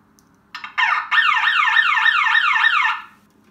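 An SB1 sound bomb alarm siren blasts loud and close, a rapid repeating upward-sweeping electronic wail that starts abruptly with a couple of short bursts, holds steady for about two seconds, then cuts off, with no talking.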